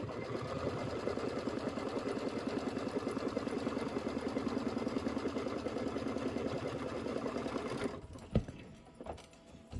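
A sewing machine runs continuously while stitching a quarter-inch seam on a chenille watermelon hot pad, giving a steady rapid mechanical whirr and chatter that stops near the end, followed by a few faint handling knocks.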